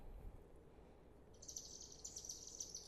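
A chimney swift call played from the Merlin bird app gives faint, rapid high chittering twitters that start partway through and run to the end over quiet room noise.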